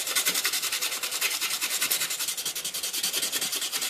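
Sandpaper rubs rapidly back and forth along the edge of a Dovo straight razor blade, giving a steady, close, rhythmic scratching that runs without a break.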